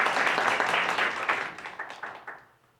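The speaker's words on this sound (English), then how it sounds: "we'll give her a round of applause." An audience at a storytelling show claps in a dense burst of applause that thins into scattered claps and fades out toward the end.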